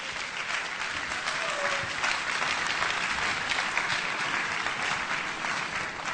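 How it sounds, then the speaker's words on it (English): An audience at a university matriculation lecture gives the lecturer a steady round of applause, with dense clapping that stays even and fills the hall for several seconds. "So let's give our lecturer another round of applause."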